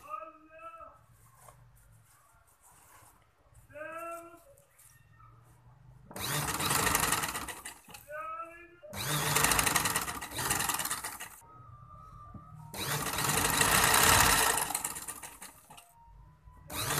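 A sewing machine attaches piping to a velvet shirt in three loud, close bursts of whirring stitching, with a voice speaking in between the runs.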